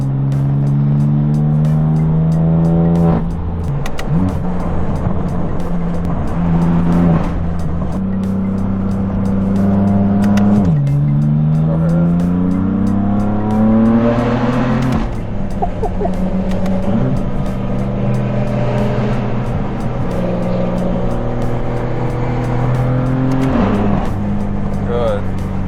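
A straight-piped BMW in Sport Plus mode pulls hard on a highway, its loud, raspy exhaust drone climbing in pitch and dropping at each gear change, several times in a row.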